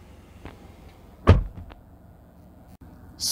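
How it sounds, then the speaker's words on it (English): A Kia Seltos HTX IVT car door opens with one sharp mechanical clunk, close and fairly loud, set among quiet interior rustles and small clicks. "If I will open the door and show you, as you can see, it is not visible at all."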